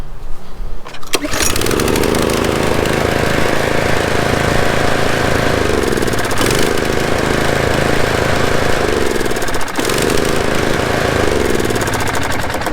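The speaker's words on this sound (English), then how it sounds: "You've got to wait until the engine settles before you can let go, otherwise it's just going to start up again." A Toro TimeMaster lawn mower engine catching again after its button is let go, bursting into a loud, close, continuous roar that runs steadily with slight periodic dips, alone without voices.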